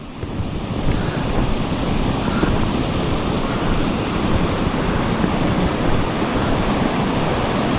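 Loud, steady rush of churning river water at a spillway in early spring fills the scene without pause, a dense roaring wash close by with some wind buffeting.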